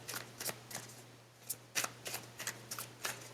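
Tarot cards are shuffled and handled close by, with a dozen or so crisp riffles and snaps over a faint steady hum, with no talking.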